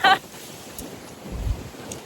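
Strong outdoor wind in New York, gusty enough to blow a hat away, heard as a steady rushing roar with a low rumbling gust near the end, over faint background noise.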